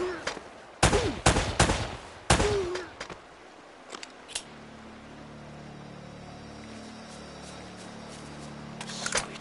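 Gunfire in Uncharted: Drake's Fortune, a cluster of loud, sharp gunshots close together in the first few seconds, then a quieter ambient stretch with a couple of faint distant shots and a final burst at the end.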